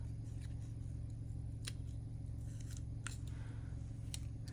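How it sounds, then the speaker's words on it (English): Scissors snipping a heart shape out of book page ends: a few quiet, separate crisp cuts over a low steady hum. "And we're going to cut out a heart"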